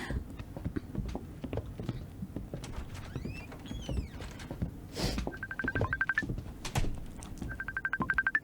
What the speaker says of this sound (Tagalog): Oh, may tumatawag.